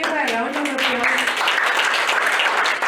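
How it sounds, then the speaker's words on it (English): Audience applause bursts up under a speaker's voice near the start, then continues as a dense, steady clapping that fills the rest of the short stretch. "let's give her a round of applause"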